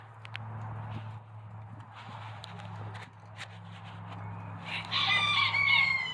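Chickens clucking softly on a farm over a low steady hum, then a rooster crows loudly and close near the end; a brief voice is faintly present.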